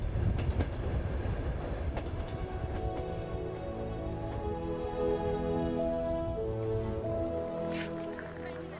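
A long-distance train crossing Mongolia toward Dornogovi province rumbles steadily on the rails, with sharp clicks and clacks over the joints and a continuous low roar throughout, close and even in level.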